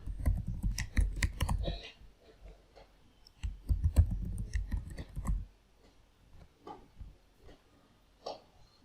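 Someone types a password on a computer keyboard: close clusters of quick key clicks in two bursts, then a few scattered, fainter taps, with no talk.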